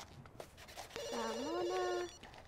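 A telephone rings in The Sims 2 University, a single warbling electronic ring tone that sounds clearly for about a second after a few quiet clicks.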